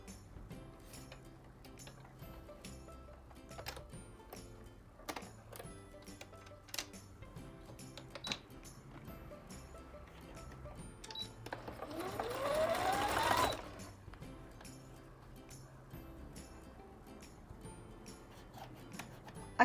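Sewing machine stitching fabric for a bunny plush, running in quick bursts with short ticking pauses between them and one longer, louder run near the end, close and fairly quiet.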